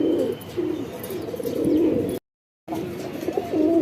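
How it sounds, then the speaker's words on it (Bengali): Shahjahanpuri pigeons cooing in a loft, with low, continuous throaty coos that overlap steadily and are broken by one brief silent gap. "অনেক কবুতর আছে"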